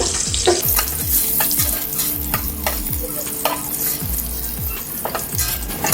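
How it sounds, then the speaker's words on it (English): Garlic sizzles steadily in hot oil in a frying pan while a utensil stirs it, scraping the pan in a repeated rhythm of short strokes, close and fairly loud with no talking. "then followed by the garlic, then stir it for a while."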